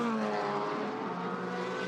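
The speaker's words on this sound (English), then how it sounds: "the 82 car's just gone past" Race car No. 82 passing by on the 24 Hours of Le Mans circuit in 2016, a loud, sustained engine roar that swells and fades gradually over two seconds, heard on its own.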